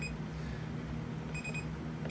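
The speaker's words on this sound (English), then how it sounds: "You get a triple beep." A Maytag 2000 series clothes dryer that will not start sounds its electronic error alert, a steady high-pitched tone faintly repeating over a low appliance hum.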